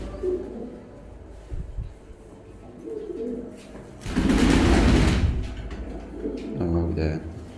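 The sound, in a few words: pigeons cooing at a pigeon market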